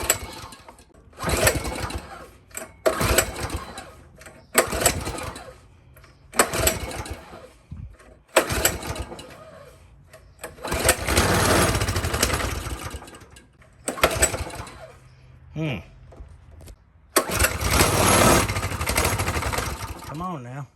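A Honda CT200U motorcycle engine with a brand-new carburetor sputters in repeated short bursts while someone tries to start it, each attempt catching briefly and dying, with pauses between and some talk.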